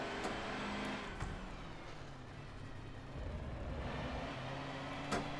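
Racing car engine in Forza Motorsport 7, a steady loud drone with engine harmonics held at near-constant revs, slight rises and dips and brief clicks, no talking.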